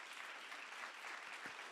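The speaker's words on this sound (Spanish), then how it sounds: "Dale un aplauso al Señor por eso." Congregation applause in a church service, a brief, dense patter of many hands clapping, fairly faint and steady with a soft thump near the end.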